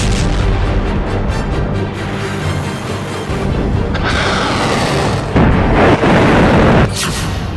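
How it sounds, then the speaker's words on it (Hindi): Missile launches toward Israel, a sustained loud roaring rush of rocket exhaust with surging bursts, dense and continuous throughout with no talk. "इजराइल पर पहली मिसाइल लॉन्च।"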